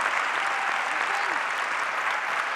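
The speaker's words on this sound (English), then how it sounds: "we have to clap even children's class" An audience at a yoga session led by Geeta Iyengar claps for the children's class, a steady, even patter of applause from a fairly large group, slightly distant and unbroken for its whole length.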